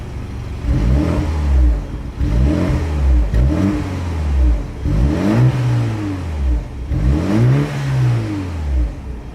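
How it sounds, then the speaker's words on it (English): Exhaust of a 2026 BMW 430i Coupe revving repeatedly, four or five rising-and-falling blips from idle, loud and close with a deep sweeping tone and no talking. "As always, here is that exhaust clip."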